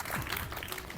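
Scattered clapping after a correct answer in a Marathi children's quiz game, a short burst of light applause heard throughout with some voices underneath.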